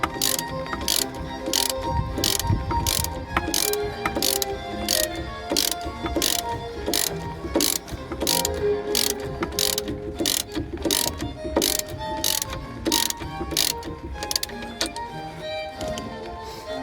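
Socket ratchet clicking rapidly and steadily while loosening an anti-roll bar bolt on a Mercedes W202, close and loud, with fast regular pawl ticks and faint metallic clanks underneath.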